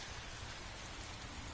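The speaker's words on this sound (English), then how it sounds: "I'm standing out here in the rain" Steady, dense rain falls in the video game Heavy Rain, a uniform, close hiss of drops spread evenly with no talk over it.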